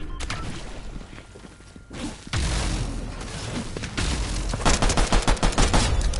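Gunfire in a battle royale video game: bursts of automatic shots with swooshes and impacts, loudest in a rapid rhythmic volley near the end.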